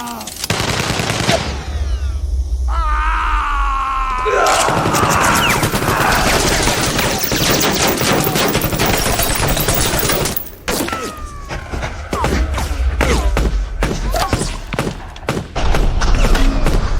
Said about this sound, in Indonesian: lalu menembak kepada anggota lainnya